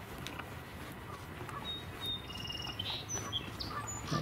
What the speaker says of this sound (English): That was a song sparrow